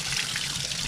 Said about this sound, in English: This comes straight from the tap.